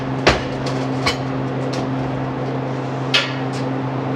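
A welding rod being tack welded on both sides, heard as a few short, sharp crackling bursts over a steady electrical hum, with quiet gaps between the tacks.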